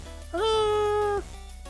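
A single drawn-out cat meow from a cat-themed character skin in Fortnite, rising then holding steady for nearly a second, loud and close against a low game background.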